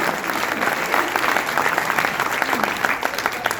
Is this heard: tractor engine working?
no